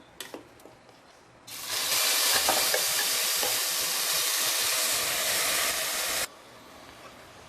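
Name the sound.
onion and green chili paste frying with fennel seeds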